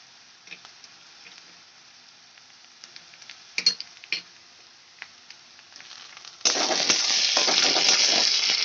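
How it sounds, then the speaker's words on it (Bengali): Onion with ginger-garlic paste sautés in a pan for a Bengali katla posto dish, first with quiet faint clinks and scrapes, then a sudden louder steady sizzle near the end. "আদা রসুনের দিয়ে আমি ভালো করে কষিয়ে নেব"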